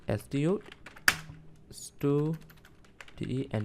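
Clicks of typing on a computer keyboard while writing HTML inside a body tag, the faint keystrokes scattered between stretches of someone talking nearby.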